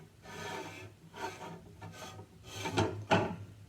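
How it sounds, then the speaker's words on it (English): A wooden gear with a square center hole slides onto an axle, making soft rasping, rubbing wood scrapes in several strokes. The strokes are faint and close, with the last two sharper. "Okay, the gear has a square-shaped hole in the middle. Simply slides right onto the axle."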